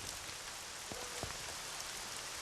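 Heavy morning rain pouring down outdoors during the rainy season, a steady dense hiss of drops on surfaces, close and unbroken, with a couple of faint thumps underneath.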